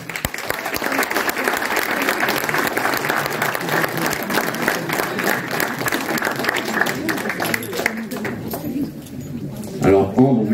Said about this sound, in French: une autre jeune fille que je vais demander de me rejoindre sous vos applaudissements, Ambre